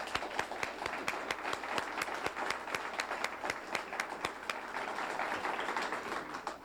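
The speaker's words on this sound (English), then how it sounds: "I think she owes a really round of applause." At a 1988 civic service awards ceremony in Cupertino, an audience gives a steady round of applause, many hands clapping together in a dense, fairly faint patter with no talking.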